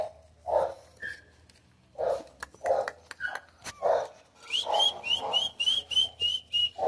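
Pitbull puppies yapping in short, repeated barks and yelps close by, mixed with sharp whistles and a rapid run of bright chirping whistle notes near the end.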